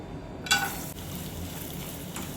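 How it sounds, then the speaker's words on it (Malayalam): Grated coconut fries in a pan for a sweet mung dal payasam, a steady dense sizzle with a brief louder crackle as it hits the hot oil. "ഇനി അതുപോലെ തന്നെ നമുക്ക് തേങ്ങയും ഫ്രൈ ചെയ്തെടുക്കണം"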